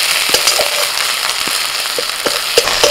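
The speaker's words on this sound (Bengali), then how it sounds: "পেঁয়াজের সাথে আদা রসুনটাকেও ভালো করে ভেজে নেব।" Onion frying with ginger-garlic paste in a pan, a steady close sizzle with scattered sharp pops and crackles throughout, no voices.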